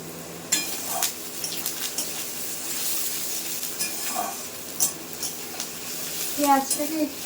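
Onions frying in a pan and being stirred, with a soft steady sizzle under occasional scraping and clinking of a utensil against the pan, close by, with no talking.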